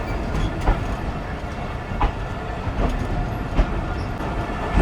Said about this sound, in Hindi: तो फाइनली दोबारा निकल गई है ट्रेन हमारी।